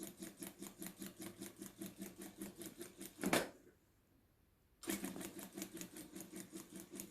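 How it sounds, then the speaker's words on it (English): Sewing machine running fast on fabric for a vintage puffed sleeve, a rapid even stitching rattle up close that stops briefly for about a second and a half, then resumes. "So now I'm going to start sewing."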